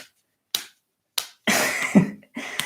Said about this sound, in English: clap your hand and foot together